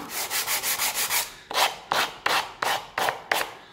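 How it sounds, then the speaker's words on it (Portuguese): Hand sanding of wood while making small wooden boxes: a rapid back-and-forth rasping, first about seven quick even strokes, then a slower series of louder, sharper strokes, close and alone. "Agora eu vou lixar aqui."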